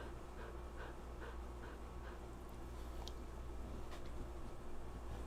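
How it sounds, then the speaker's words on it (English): A dog panting close by in a quiet setting, soft rhythmic breaths with a few faint whimpers and small mouth sounds over a low hum, no voices. "There's a dog right here."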